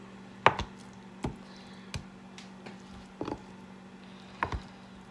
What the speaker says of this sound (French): je vais commencer par couper mon tofu en morceaux